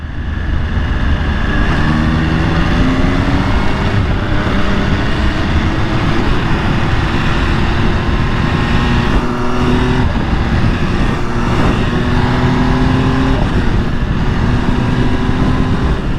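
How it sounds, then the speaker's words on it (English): The engine of a 2022 MV Agusta Dragster 800 RR motorcycle runs in race mode: a loud, close, continuous drone whose pitch rises and falls steadily throughout, with no voices. "Try to put it in race, see how different it sounds."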